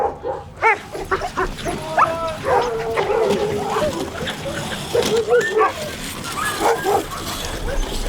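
A team of sled dogs barks and yips excitedly in rapid, overlapping bursts, with whimpers mixed in, close and loud throughout.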